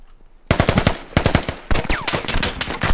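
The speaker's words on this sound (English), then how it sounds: "something heavy shooting." Heavy automatic gunfire in the military shooter game Squad: loud, rapid bursts of shots after a brief quiet start, with a short gap between bursts and no speech.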